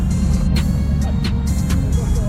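A straight-piped V8 Lincoln Continental Town Car with its mufflers removed sends out a loud, close, deep exhaust rumble with slight surges. Brief voices are heard over it.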